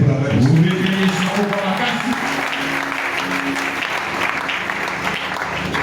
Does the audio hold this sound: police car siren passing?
no